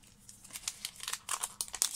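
Plastic wrap being peeled and pulled off a brand-new HP Sprocket mini photo printer, a close run of crinkling, tearing rustles that grow busier toward the end, with no talking.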